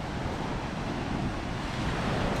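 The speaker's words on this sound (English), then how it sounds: "Wow, look at them squalls out there" Rough sea surf and gusting wind squalls along a coastline in Antique, Philippines, a continuous loud roar of waves and wind buffeting with no pauses.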